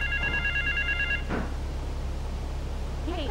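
A telephone rings in Grand Theft Auto III, a few short electronic trilling rings at moderate level over a low background hum, without any talk.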